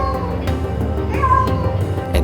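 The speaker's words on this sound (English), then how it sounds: "he just continued to meow" A rescued kitten meows repeatedly, a few drawn-out cries close by over a steady low background hum.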